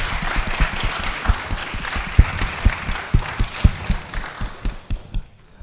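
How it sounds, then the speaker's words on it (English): An audience at a community dialogue event applauds steadily, with scattered claps thinning and fading toward the end. "So please give a round of applause to Sean,"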